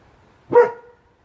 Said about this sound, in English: So the barking dog off in the distance kind of ruined that